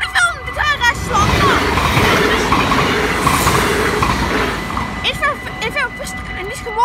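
A train rumbles past in Maasbracht, loud and close, with rattling wheels and a brief squeal; excited voices chatter before and after the pass.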